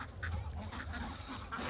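A flock of about 700 farmed ducks quacks on a riverbank, a dense, overlapping chorus of calls at moderate distance under a steady outdoor background.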